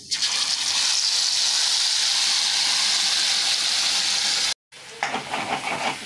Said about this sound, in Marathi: वाटण छान परतून घ्यायचं आहे